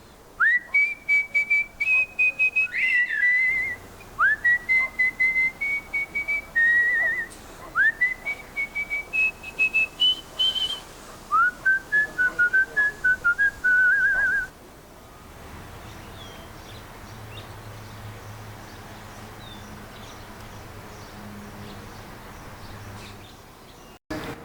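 A person whistles in a traditional whistled language used to communicate across distances, sending a series of sharp, rising and sliding whistled phrases for about fourteen seconds before falling quiet.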